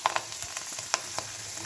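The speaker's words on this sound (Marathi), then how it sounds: "दिसताना खूप छोटा दिसतोय, पण तेलामध्ये टाकला की खूप जास्त फुलतोय" Rice papad fries in hot oil with a steady, close sizzle and scattered crackling pops, heard alone.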